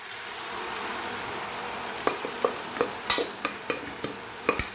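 Jackfruit curry bubbles gently in a pan over a steady low simmer, then a ladle or spoon stirs and scrapes in a run of sharp, irregular knocks.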